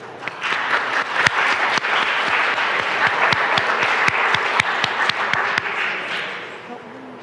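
Steady applause from a summit audience greeting officials, including a U.S. Attorney, as they take the stage, with dense continuous clapping and a few sharp louder claps standing out throughout.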